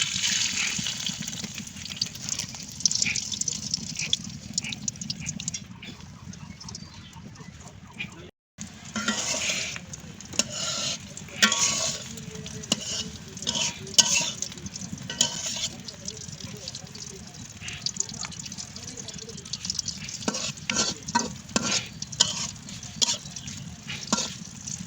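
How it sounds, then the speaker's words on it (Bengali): Egg frying in hot oil in a home kitchen, a steady crackling sizzle with bursts of spatter and occasional stirring clatter, close and continuous throughout. "তো এখানে আমার তেলটা গরম হয়ে গেছে। তো এখন আমি ডিমটা দিয়ে দেব।"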